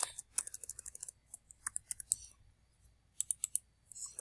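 Light, quick typing on a computer keyboard, close and quiet, in irregular bursts of clicks with short pauses between them.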